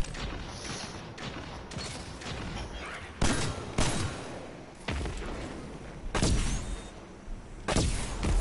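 Repeated sharp gunshots in a video game, fired from an Ico sniper rifle: loud, close cracks that come in separate bursts at irregular intervals, over a steady background.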